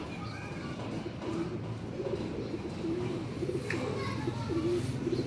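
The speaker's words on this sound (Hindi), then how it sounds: "ये जी फैजान भाई का रामपुरी जोड़ा माशाल्लाह" A pair of Rampuri pigeons coos softly and repeatedly at moderate distance, low murmuring calls over a busy outdoor background with faint voices.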